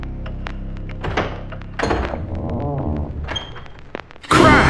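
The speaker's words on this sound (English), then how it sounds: "Crash! The back door exploded inward." A back door bangs open with a heavy thunk amid a sequence of clattering knocks and thuds, ending in a loud noisy burst.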